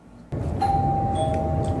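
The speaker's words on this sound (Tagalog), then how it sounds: "May nag-doorbell na naman eh." A household doorbell rings with a sudden electronic chime at a home, a few clear tones following one another over a steady background.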